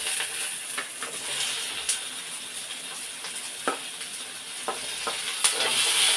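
Onions and tomatoes fry in a pan with garlic, a steady bright sizzle running throughout, broken by a few soft clacks of stirring, with no talking.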